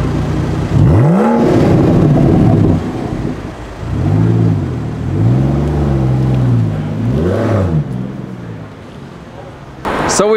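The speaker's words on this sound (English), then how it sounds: "we've got the 675 LT just pulling into the Spar top oil here just outside Carrigtwohill" A McLaren 675LT rolls into a fuel stop outside Carrigtwohill, its engine note rising and falling in revving swells that come through loud and close alongside other passing cars.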